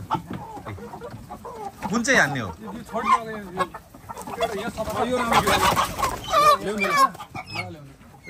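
Chickens cluck and squawk close by at an outdoor gathering of Nepali people in Korea, in repeated bursts under people talking.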